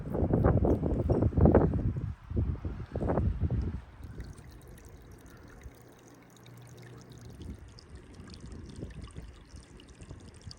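Water pouring down and splitting in two into a swale, a strong splashing rush in the first few seconds that drops to a faint, steady trickle with soft outdoor background.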